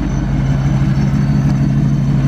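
A 1000-horsepower 2018 Ford Mustang GT's engine idles close by, a steady rumble, low and continuous with an even throb, and no talking.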